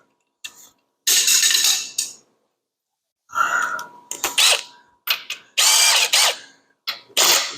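Bolts are loosened with a ratcheting power tool while a 1920 Nash engine is removed, in sharp, close bursts of whirring and clicking separated by brief silences.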